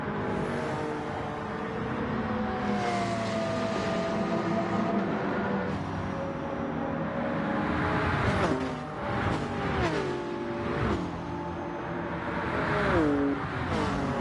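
A high-pitched Jaguar race car engine whines on and off around a track, shifting gears and rising and falling in pitch, heard at some distance without talk.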